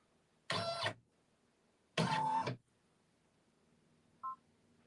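A Brother VE-2200 embroidery machine traces the outline of a key fob design, letting out two loud, buzzy motor bursts about a second apart and then a short faint beep in a quiet room.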